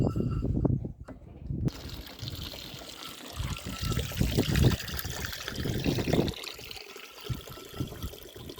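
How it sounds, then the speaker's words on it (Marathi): Water trickles and splashes steadily close by from a tap into a cattle trough on a dairy farm, a continuous dribbling flow with some gurgling, no voices. "याच्यातून पाणी खाली पडते"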